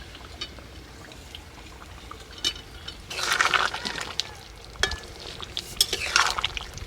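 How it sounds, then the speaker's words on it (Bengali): A pot of chicken curry gravy bubbles and is stirred, giving soft liquid churning with bursts of louder bubbling and scraping strokes, moderately close, without talk. "ঝোলটা ভালো মতো ফুটতে শুরু হয়ে গেছে"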